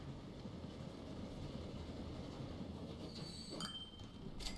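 A passenger train arriving at a station in the Transport Fever 2 game, a steady rolling rumble of wheels on track with a brief high squeal near the end, moderately loud with no talk.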